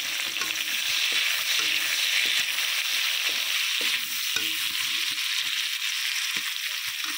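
Chopped onions fry in oil after prawns have been fried, making a continuous close sizzle with frequent spatula scrapes and knocks against the pan as they are stirred.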